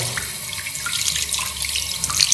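Water runs and splashes steadily while a pet hamster is bathed, a close, continuous wash of water with no voices.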